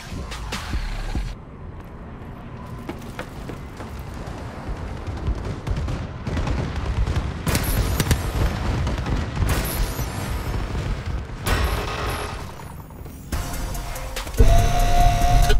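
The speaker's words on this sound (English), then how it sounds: "Friendly bombing run clearing the way." Call of Duty: Advanced Warfare multiplayer bombing run: loud, continuous rumbling explosions and bursts of gunfire from the game, dense and booming throughout with brief lulls.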